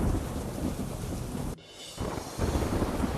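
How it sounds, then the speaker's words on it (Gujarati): Heavy rain pours in Veraval under strong wind, with a loud thunderclap cutting through mid-way before the downpour roars on. "વેરાવળમાં ભારે પવન સાથે વરસાદ વરસ્યો।"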